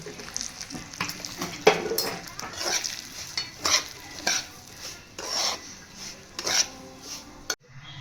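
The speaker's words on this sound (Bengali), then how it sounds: "পেঁয়াজের সঙ্গে সুজিটা ভালো করে ভাজা ভাজা হয়ে গেছে।" Semolina and onions stir-fried in a pan with ghee, giving repeated scraping and rasping strokes of a spatula over a soft sizzle, close and steady with no talking.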